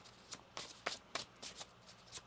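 Tarot cards shuffled in a series of about eight quick, crisp riffling bursts at a steady rhythm, close and fairly quiet, with no talking.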